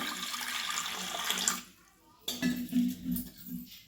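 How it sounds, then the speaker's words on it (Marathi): Water splashes steadily into a metal pressure cooker for about two seconds, then stops; a few clinks and shorter splashes follow. "तर आता कुकरमध्ये पाणी ओतूया बघा थोडंसं"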